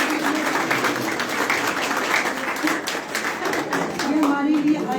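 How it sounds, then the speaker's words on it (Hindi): An audience claps steadily through a golden jubilee celebration honoring a group of nuns, the dense applause carrying on continuously with voices and crowd sound mixed into it. "आपकी तालियां नहीं रुकनी चाहिए।"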